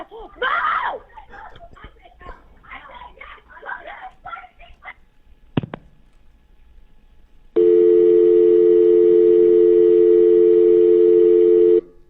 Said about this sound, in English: The remaining time on that audio will just be a dial tone